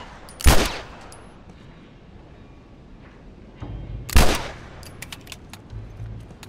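Gunfire in The Last of Us Remastered: two sharp, loud gunshots about four seconds apart, each followed by a short echoing tail, with quieter scattered game sounds in between.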